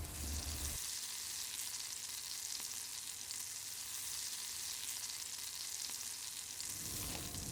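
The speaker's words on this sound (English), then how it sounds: "now that our fish is cooking" Rainbow trout cooking over charcoal, a steady close crackle and sizzle of fish over the coals, with a low rumble at the start and end.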